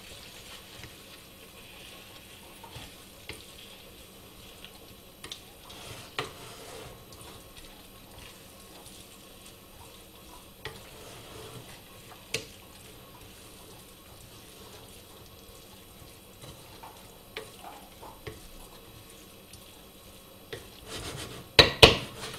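A spoon stirring lentils and potatoes in a pot, giving faint, irregular scraping and clinking with soft sloshing over a quiet background, ending in a brief cluster of louder knocks.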